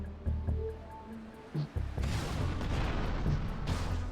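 A rocket launcher explosion in GTA Vice City erupts after a few short thuds and tones, then a loud, sustained rumbling blast fills the rest of the moment without any talking.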